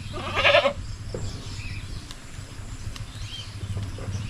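A single short, high bleat comes from a goat kept in a pen on a farm, followed by quiet shuffling and low background noise.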